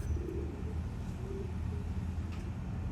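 Soft, low cooing of racing pigeons drifts through a steady background hum, a few muffled coos repeating over three seconds with no talking.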